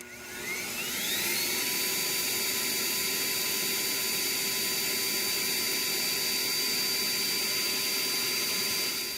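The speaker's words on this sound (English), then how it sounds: "Next, I'm going to try running this 12 amp vacuum cleaner" A 12 amp vacuum cleaner powered by a Jackery 1000 power station whines up to speed in the first second, then roars steadily and loudly at close range with a constant high-pitched motor tone, no talking.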